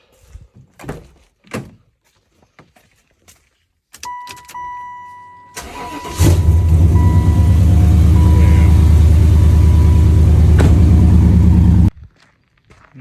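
After a few door clicks and thumps, a Chevrolet Impala that has sat unused for a couple of weeks cranks and catches, then settles into a loud, steady idle close by before cutting off.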